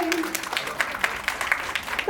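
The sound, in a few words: loud applause for a dance performance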